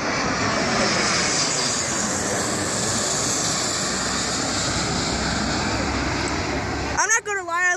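A Frontier Airlines airplane flies over at Detroit DTW airport, its jet engine roar loud and steady for several seconds before a voice speaks excitedly at the end.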